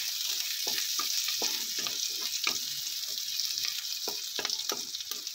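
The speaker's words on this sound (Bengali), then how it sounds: "আর রসুন কুচিটাও দিয়ে দেব। দিয়ে একটু নাড়াচাড়া করে নিচ্ছি।" Chopped garlic sizzles in a hot pan, a steady frying hiss broken by repeated scraping strokes as it is stirred.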